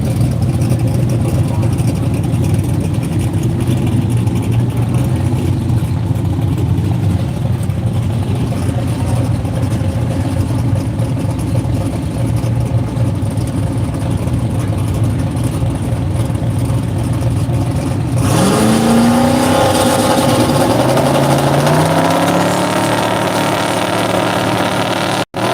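A Mustang drag car at a radial drag racing meet in Australia drones loudly and steadily, its engine note rising in a sweeping pitch change near the end as it accelerates.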